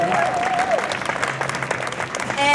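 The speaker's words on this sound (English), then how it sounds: "So give a big round of applause to Frack Free Ohio for getting that passed" Crowd applause for Frack Free Ohio at a legislator accountability day gathering in Columbus, Ohio: dense, steady clapping from many hands fills the whole stretch, with a few voices and whistles mixed in.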